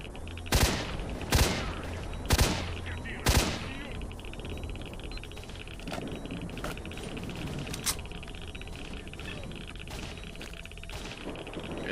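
Gunfire in the video game S.T.A.L.K.E.R.: Shadow of Chornobyl, four sharp loud shots spaced about a second apart, then fainter scattered distant shots over a busy game background.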